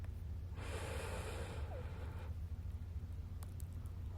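A slow, deep inhale during guided meditation, a soft airy breath drawn in for about a second, faint and close over a low steady hum, followed by quiet.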